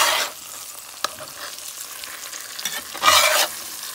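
Green tomato slices frying in a pan as they are turned, a steady close sizzle with a sharp clink near one second and a louder burst of hissing around three seconds, no voices.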